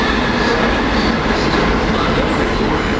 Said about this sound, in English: That was the Gatwick Express.